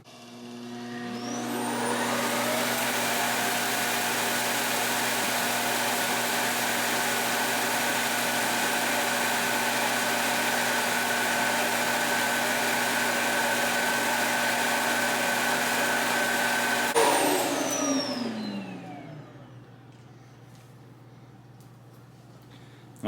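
A Roborock S7+ or iRobot Roomba J7+ self-emptying dock roars as it sucks debris out of the robot vacuum's dustbin, a loud steady whining motor rush held for about fifteen seconds before winding down, with no talking.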